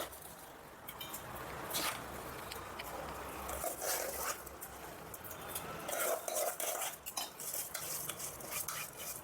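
Grains of Kurnool rice tipped into a pot of boiling water and stirred, giving scraping, clinking metal-utensil sounds against the pot over a steady bubbling background, with brief louder clatters.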